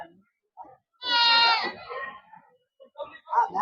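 Goats at a goat and sheep market in Phanithapuram, Khammam district, Telangana, with one loud, near, drawn-out bleat of about half a second, followed by quieter market chatter.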